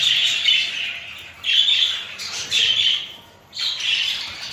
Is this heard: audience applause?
no